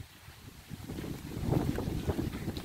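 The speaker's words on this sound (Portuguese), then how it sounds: "E vento, ó." Wind blows across a rural farm before rain, a low, steady rush that swells into buffeting gusts on the microphone, with no voices.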